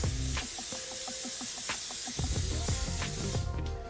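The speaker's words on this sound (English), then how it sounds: "I'm gonna spray this in the bottom and a little bit on the side." Pam non-stick cooking spray hisses into the bottom and sides of an air fryer basket, a steady close aerosol rush lasting several seconds, with faint clicks and knocks of handling underneath.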